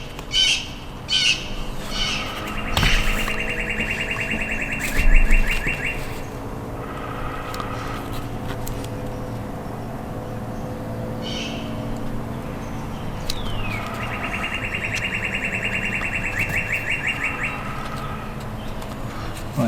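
Blue jays calling overhead in spring: loud, harsh, repeated squawking calls in bursts, with other faint chirps and outdoor ambience around them.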